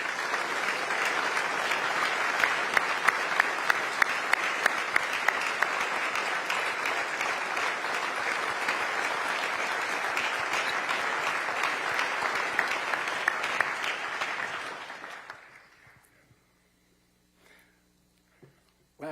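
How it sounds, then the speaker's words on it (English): An audience at Honolulu Mayor Rick Blangiardi's 2024 State of the City Address applauds city directors and deputy directors, a steady, sustained round of clapping for about fifteen seconds before fading abruptly into near silence. "Would all of our directors and deputy directors please rise for a well-deserved round of applause."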